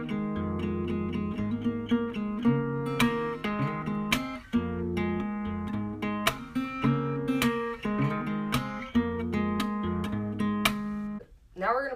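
Fingerstyle acoustic guitar plays a passage from a song, with steady plucked notes and chords, sharp percussive string hits, and close, clear tone throughout with no voice.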